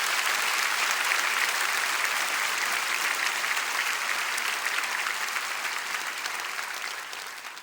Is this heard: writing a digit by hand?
no